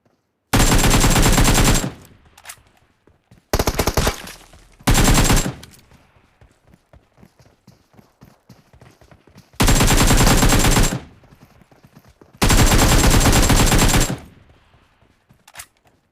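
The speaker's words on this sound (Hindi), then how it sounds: "उतने में जोर से गोलियां पड़ने लगती है" Heavy automatic gunfire in a video game shooter match during a 1v3 clutch, arriving in several loud sustained bursts with quieter gaps between, no talk over it.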